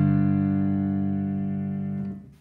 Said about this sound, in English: play two power chords in root position like this.